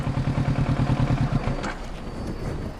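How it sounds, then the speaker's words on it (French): A 2018 Kawasaki Ninja 650 motorcycle engine chugs with a close, rhythmic low thump for over a second, then stalls and cuts out, leaving a dull rumble. "Moto qui cale, c'est normal"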